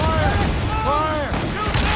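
Ship cannons firing during a naval ambush in Assassin's Creed Rogue, a dense roll of heavy booms blurring into constant low rumble, with voices shouting over the barrage.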